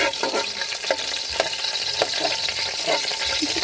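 Chopped garlic sizzles steadily in hot oil in a pan while being stirred, with a constant broadband crackle and regular soft scraping strokes of the spoon throughout, close and fairly loud with no talking.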